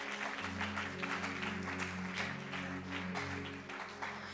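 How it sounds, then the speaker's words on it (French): A church congregation at a women's seminary service claps and applauds for the Lord, a dense steady wash of hands over a low hum from the sound system. "Est-ce qu'on peut acclamer pour le Seigneur?"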